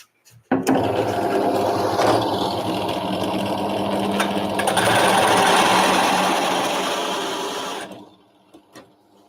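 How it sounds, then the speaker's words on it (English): A power drill whirs loudly and steadily for several seconds as it bores into a big piece of wood for an arcade cabinet, with a grinding rasp, then stops, leaving faint clicks. "I'll be able to do it with my drill."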